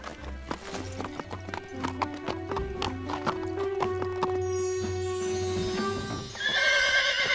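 Cartoon horse hooves clip-clop steadily at close range, with a horse whinnying loudly toward the end.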